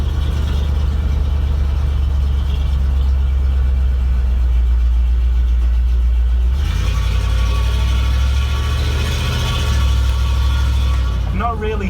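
A van's engine pulls in second gear with a loud, steady drone, then climbs in pitch and grows noisier partway through as road noise builds, with a brief squeak near the end.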